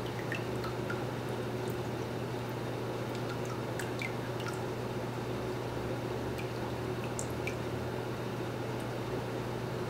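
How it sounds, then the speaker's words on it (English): Water drains from wet paper pulp held in a paper-making mould, a steady soft trickle with scattered small drips over a constant low hum, faint and continuous with no speech. "I'm just going to let this go until the majority of the water is done draining out of the bottom."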